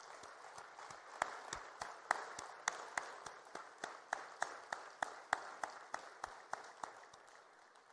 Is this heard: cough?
no